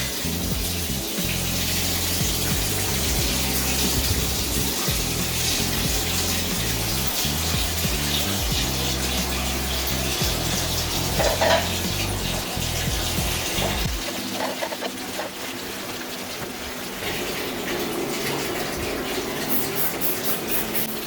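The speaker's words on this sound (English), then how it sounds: "fill this up with a bit of water" A bathtub fills from the tap for soaking cleaning items during a bathroom deep clean, a loud steady gushing rush of water that lasts throughout and shifts in tone partway through as the tub fills, with no talking.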